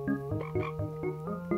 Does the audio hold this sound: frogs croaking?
yes